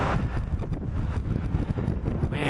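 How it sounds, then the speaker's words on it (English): Gusty wind blowing outdoors in a backyard, a steady broadband rush buffeting the microphone throughout with no voices over it. "Man, windy."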